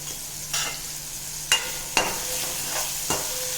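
Steady sizzling of a tempering of spices, red chili powder, turmeric and salt frying in a pan for a potato dish, with a few sharp clinks of a utensil stirring at irregular intervals.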